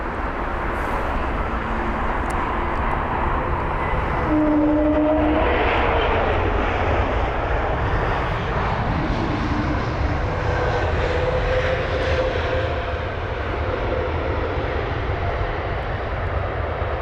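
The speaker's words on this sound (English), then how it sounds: "flight number LX324 from Zurich. It's arriving from a 1 hour and 25 minute long flight time" Swiss flight LX324 from Zurich, a three-year-old jet, roars steadily on arrival at London Heathrow. The loud engine noise holds for the whole stretch and sweeps a little as the aircraft passes.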